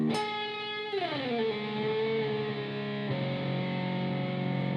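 A single overdriven electric guitar note, played as in a blues solo, glides down the neck, settles into a bent pitch, then a pull-off drops it to a lower sustained tone that rings out loudly without voices.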